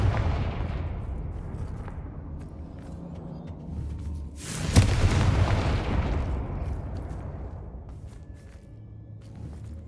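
A Confringo spell detonates in Hogwarts Legacy, a heavy, booming blast with a sharp crack, rising out of a low rumbling ambience and trailing off into a long fading roar, loud and close.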